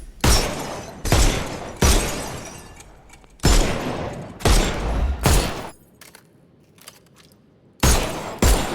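Pistol shots fired at targets in the video game Sherlock Holmes Chapter One, a series of loud, sharp cracks about every second with brief pauses between, each shot ringing out with a bright, crashing tail.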